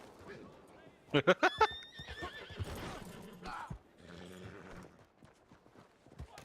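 Close by, a horse lets out a loud, wavering whinny, with hoof clip-clops and rustling around it while people talk casually on either side of the call.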